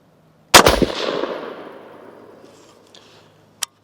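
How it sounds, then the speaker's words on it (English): A single loud rifle shot fired downrange through a 1-8x24 optic setup, a sharp crack followed by a long rolling echo that fades over about three seconds, then a faint distant click near the end. "Last shot on 8 power."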